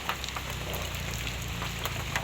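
Steady, fairly faint rain hisses evenly during Typhoon Pepito under storm signal number 4, a continuous wash of falling water with no voices.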